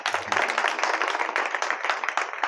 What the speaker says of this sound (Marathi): यांच्याकरता एकदा टाळी होऊ नये.